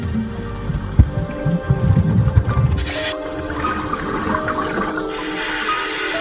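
A diver plunges into icy sea water, a loud splash and churning bubbling surge that settles into a softer underwater gurgle and hiss.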